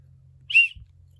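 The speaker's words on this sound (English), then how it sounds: "Yeah, another whistle." One short, shrill blast from a small emergency whistle out of a budget survival kit, close and loud over a low steady hum, followed by a soft handling thump.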